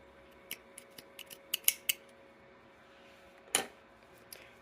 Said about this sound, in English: And go ahead and trim those down.